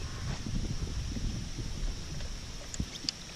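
Steady wind rumbles and buffets across a small bass fishing boat on Loch Raven, a low continuous roar with faint water lapping and a couple of small knocks near the end.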